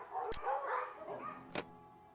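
Dogs in the Nancy Drew game Ghost Dogs of Moon Lake, trained to act vicious, give a few mid-level yips and barks, with two sharp broadband snaps, fairly faint and alone.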